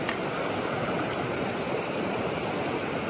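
A mountain stream in Kiso, Japan, where trout are being fished, rushes and churns in a steady, dense wash of flowing water that stays even and close throughout, with no voices.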